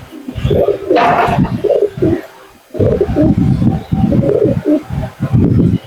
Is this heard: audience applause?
no